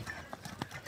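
Hooves of two powerful donkeys shuffling and stamping as the female kicks at the male, a few soft clopping thumps at close range over a faint steady background.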